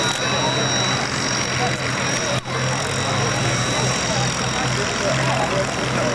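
DC-3 aircraft engines drone in a steady, loud roar with a tonal hum at an air fair, the noise continuous throughout with a momentary dip midway, while a commentator speaks over the public address.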